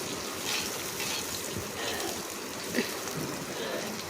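Onions and green chillies frying in plenty of oil, a steady dense crackling sizzle that stays close and continuous throughout, with a few small pops and faint scraping clicks.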